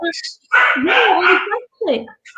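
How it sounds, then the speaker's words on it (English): Dogs from another room bark and yip in short bursts, loud and excited, mixed in with talk. "I might have to bring the dogs in here in a minute. They're in the other room and they're just..."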